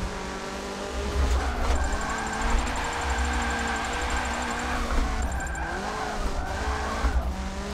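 Tire squeal from a Volvo sliding through an online drift racing game on a quick build with a sequential gearbox, continuous engine drone under sustained high-pitched screeching that swells and eases over several seconds, no talking.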